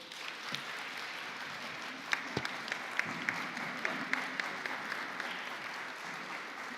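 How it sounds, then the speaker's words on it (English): An audience at a provincial anti-substance abuse forum launch in KwaZulu-Natal gives a round of applause, a steady crowd of clapping heard from some distance, with a few sharper individual claps standing out. "Can we give our Honorable Premier Alanda a round hand of applause?"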